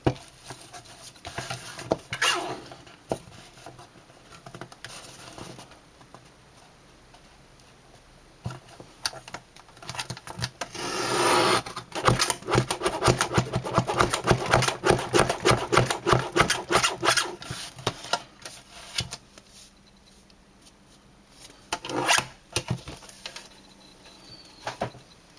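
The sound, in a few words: cutting card for a poinsettia Christmas card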